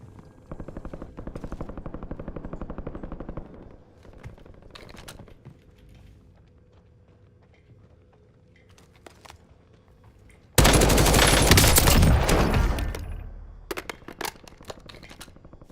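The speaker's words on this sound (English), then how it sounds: "There's another guy shooting around here." Gunfire in Call of Duty Warzone, with a sustained automatic burst early on, quieter scattered shots, and a very loud close burst near the end, over faint game ambience.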